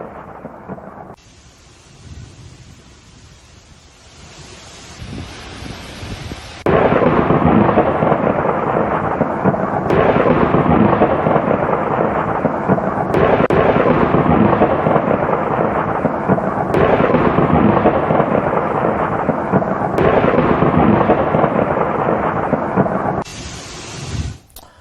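A thunderstorm with strong wind and heavy rain roars loudly and continuously, with sharp thunder cracks at intervals after a quieter opening of rain.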